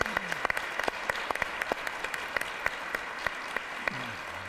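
A studio audience applauds a guest on Mahfel, a Persian-language TV show, with dense steady clapping that fills the room and keeps the same level from start to finish.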